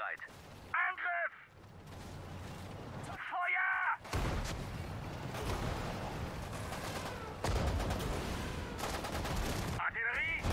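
Sudden Strike 4 battle with artillery and gunfire, dense crackling bursts and booms filling long stretches between shouted German voice commands.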